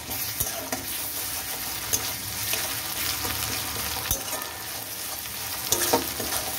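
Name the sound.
onions frying with ginger paste added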